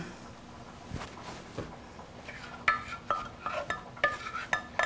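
Light scraping and clinking of a spatula against a bowl, a few irregular strokes growing busier toward the end, close by with no talk.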